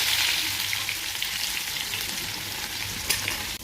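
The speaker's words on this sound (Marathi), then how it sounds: "छानपैकी तेल तापलेले आहे। मोहरी घालूया, जिरे घालूया, त्यानंतर ठेचून घेतलेला लसूण" Mustard seeds, cumin and crushed garlic sizzling in hot oil, a loud, dense and steady frying hiss that barely changes throughout.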